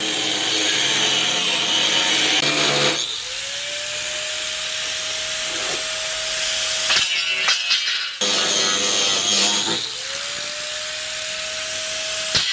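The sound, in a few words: sawing to trim wooden side piece of platform rack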